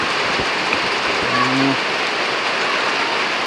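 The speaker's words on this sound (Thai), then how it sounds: "ฝนยังตกอยู่" Rain falls in a steady, close hiss of drops, with a short low voiced murmur rising briefly in the middle over the constant wash.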